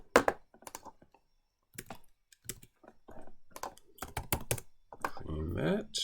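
Code being typed into VS Code on a computer keyboard: bursts of close, crisp key clicks come in irregular clusters with pauses between them, and someone speaks briefly near the end.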